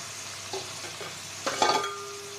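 Ash gourd added to a pan of frying pangas fish heads gives a soft steady sizzle, with a few light spatula and pot knocks and one louder scrape near the end.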